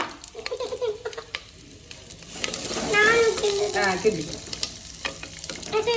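Onions sizzle and fry in a hot pan while a spoon scrapes and stirs; a voice speaks briefly over the cooking.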